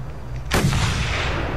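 A single sharp sniper gunshot rings out in the Mad Max video game on PS4, followed by a sustained loud rumbling echo that persists to the end.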